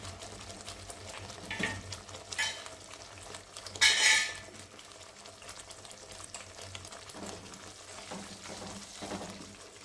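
Ground coriander, cumin and turmeric sautéing with peas and potatoes in a pan, a continuous busy sizzle broken by spoon scrapes and one louder metallic clatter midway.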